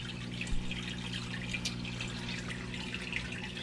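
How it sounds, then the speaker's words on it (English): A small aqua lifter pump tops off a 20-gallon long aquarium with distilled water from a gallon jug, giving a steady faint hum with light trickling water throughout. "Let's turn the pump on, and as the water level rises back up, the float switch will come up and shut it off"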